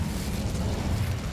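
The Incendio fire spell from Hogwarts Legacy erupts as a loud, continuous roaring rush of flame that fills the whole brief moment.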